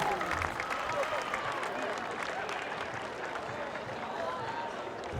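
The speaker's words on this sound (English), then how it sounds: "Let's give another big round of applause to all of your 2026 finalists for the Callahan in the men's division" A stadium crowd at a 2026 college ultimate championship applauds the Callahan finalists in the men's division, a broad, fairly distant wash of clapping and cheering sustained throughout.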